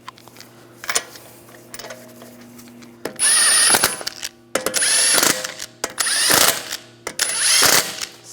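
Power tool snugging the lug bolts on a 2009-2013 BMW 328i xDrive wheel: four loud, close ratcheting drill bursts of about a second each, with quieter clicks and handling noise before them.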